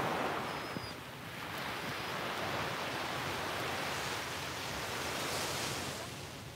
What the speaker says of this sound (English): Just the sounds of the waves are so special.